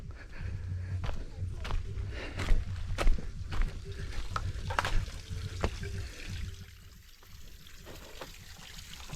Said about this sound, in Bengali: জলের যে ধারাটা কিন্তু এখান থেকে নেমে যাচ্ছে